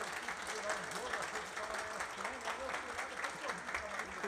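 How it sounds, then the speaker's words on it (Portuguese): An audience at a football-themed gathering in São Paulo applauds, a fairly quiet, steady patter of clapping spread through the crowd with some voices mixed in. "Eu queria uma salva de palmas para a equipe do Butantã Shopping"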